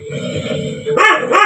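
A puppy barks indoors, two sharp yips close by following a stretch of lower, murmuring sound.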